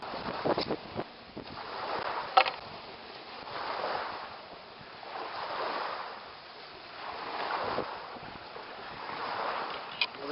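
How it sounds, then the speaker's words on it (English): Outdoor wind blowing at about 7-8 knots rushes in slow, rolling gusts that swell and fade every couple of seconds, with a few faint knocks between them. "It's got a pretty good little wind going right now. Probably blowing 7-8 knots out here."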